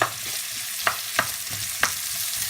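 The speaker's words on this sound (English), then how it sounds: "I'm gonna put my onions in here, and we'll fry the onions" Chopped onions hit hot oil in a pan for keema hari mirch, crackling steadily while a utensil stirs them in several sharp, close scraping strokes.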